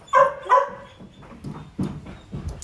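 A dog gives two sharp, close barks in quick succession, then softer whimpers and low grumbling vocal sounds follow at a lower level.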